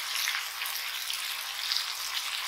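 Pork with ginger and spring onion frying in a pan for a Chinese stir fry, giving a continuous bright, crackling sizzle at an even level from close by, with no voices.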